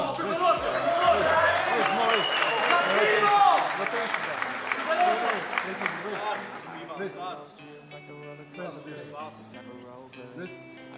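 Spectators at a live sports match applaud and cheer loudly, with the noise swelling for a few seconds and then thinning out, while an announcer's voice talks over the crowd.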